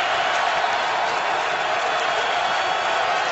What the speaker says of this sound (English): That has energized this crowd.